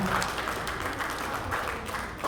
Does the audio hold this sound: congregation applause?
yes